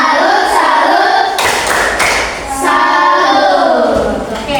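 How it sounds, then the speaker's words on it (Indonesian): A classroom of pupils claps a rhythmic tepuk salut cheer together, loud and close, with bursts of patterned hand claps blending with children's voices chanting along. "Oke, tepuk salut untuk semua."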